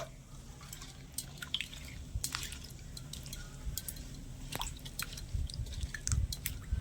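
Water poured into a pan of watermelon pickle mixture in a home kitchen, heard as faint, scattered drips and wet splashes over a low background hum, with no talking.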